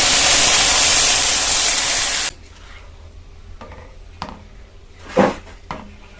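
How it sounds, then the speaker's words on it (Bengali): Milk poured into a hot pan of fried vermicelli hits with a loud, hissing sizzle that cuts off abruptly after about two seconds, followed by quiet stirring and scraping sounds. "এবার এর মধ্যে জলে রাখা দুধটা দিয়ে দেব।"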